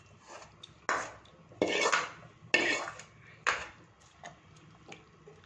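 Hot tempering is tipped into a pot of chow chow and moong dal masala kuzhambu, giving several sharp, bright clinks and scrapes of a metal spoon against the pot, spaced unevenly over a quiet kitchen background.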